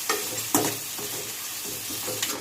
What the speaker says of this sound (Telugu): ఇప్పుడు వీటన్నిటిని ఒకసారి ఫ్రై చేయండి